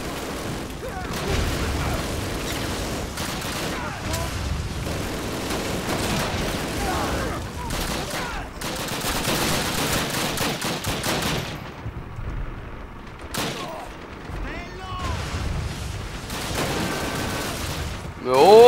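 Dense gunfire from the Call of Duty United Offensive game in the Kharkov Outskirts mission: rapid machine gun bursts and shots with booms, continuous throughout with a brief lull, under someone talking excitedly.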